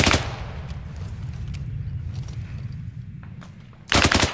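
Sustained suppressing fire in ArmA 3 rumbles as distant, continuous rifle and machine-gun shots under low battlefield noise, then a loud, close burst of gunfire cracks at the end.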